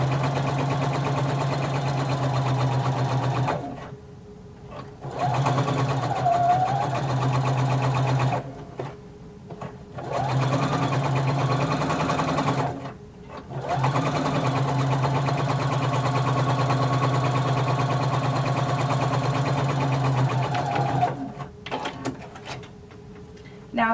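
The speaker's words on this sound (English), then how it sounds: "I'm going to sew using 5/8 of an inch seam allowance, and I'm just going to sew all the way around the pocket" A sewing machine stitches around a jumpsuit pocket at a 5/8-inch seam allowance, its steady motor drone and rapid needle chatter running loud and close in several long stretches broken by short stops.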